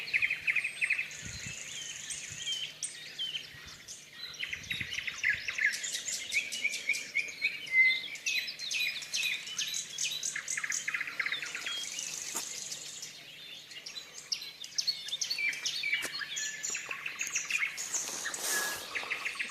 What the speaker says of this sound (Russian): Где-то спрятались птички, но поют, щебечут.